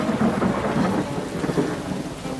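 Thunder rumbles low beneath steady rain falling outdoors, a continuous wash of rainfall with deeper rolling swells throughout.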